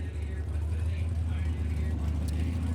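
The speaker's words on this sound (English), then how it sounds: "you can hear the next car coming to the block" A 2016 COPO Camaro race car rumbles low and steady as it rolls onto the auction block at a Mecum auction in Glendale, with an announcer talking over the engine.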